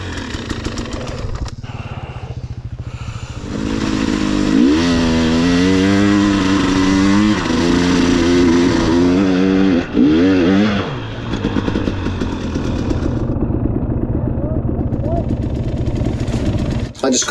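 A motorcycle ridden along a very wet trail in Wales, its engine droning loud and close for most of the stretch, revving and labouring with rising and falling pitch while a voice talks over it.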